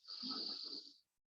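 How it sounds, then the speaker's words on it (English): One deep in-breath during a guided mindfulness breathing exercise, a soft airy hiss drawn in for about a second and then stopping, close and quiet with no talking. "Deep breathing in"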